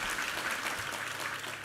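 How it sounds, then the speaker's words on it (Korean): Steady applause from a church congregation during a Sunday service, dense clapping filling the whole moment without pause, no voices standing out. "우리 하나님께 감사와 영광의 박수 올려드리겠습니다."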